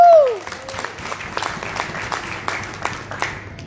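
Applause from an audience at a leadership programme meeting, a steady wash of clapping that swells and fades, with a short tone at the start and faint talk underneath.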